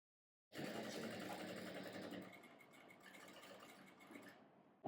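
A sewing machine runs a lock stitch along the back of a blouse, giving a close, steady, fast rattling hum that starts abruptly and then eases slightly toward the end, with no talk.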